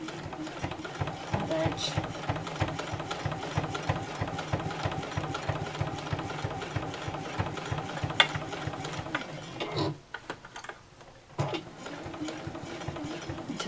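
Sewing machine stitching along the edge of a fabric cutlery pouch, a steady rapid mechanical chatter of needle strokes that runs continuously, pauses briefly, then resumes, with a person talking over it.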